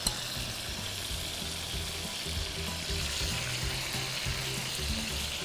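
Sliced onions and peppers fry in hot oil, a steady, dense crackling sizzle that holds close and even throughout with no voices.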